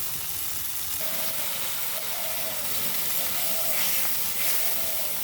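Ground ginger, cumin and chili paste fry in a pan for egg curry in a mini kitchen, producing a loud, continuous hissing sizzle from start to finish, with occasional faint stirring.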